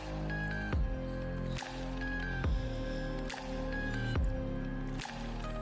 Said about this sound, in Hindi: दही डालकर चम्मच से मैं मिक्स कर रही हूँ इस सारे मसाले को और गोश्त को।